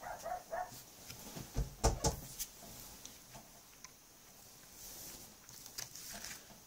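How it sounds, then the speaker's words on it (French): A dog barks a few times in quick, sharp bursts near the start, then only faint background noise remains. "et bien là on l'entend aboyer"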